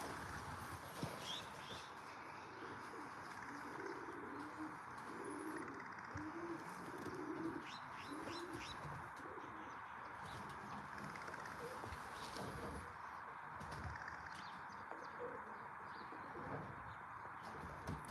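Soft cooing of racing pigeons at their loft, low repeated calls from several birds under a steady background hiss, fairly quiet and continuous.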